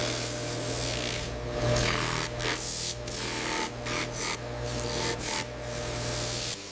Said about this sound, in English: Fine sanding creates a smooth surface, preparing the horn for detailed finishing.